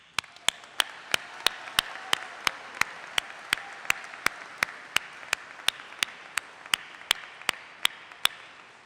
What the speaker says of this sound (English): let's give a round of applause to all of the troublemakers